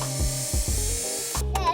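A power tool whirs in short bursts while a Dasaita G12 head unit is installed in a 3rd-gen Tacoma, with brief ratcheting pauses between runs and a sharper high whine near the end.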